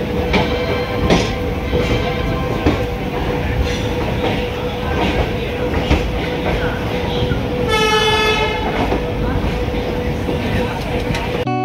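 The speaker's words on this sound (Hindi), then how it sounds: "ये देखिए रानीखेत एक्सप्रेस काठगोदाम जैसलमेर।" Express passenger train at a north Indian railway station, a loud sustained horn sounding near the end over continuous station bustle and rumbling train noise, with people talking throughout.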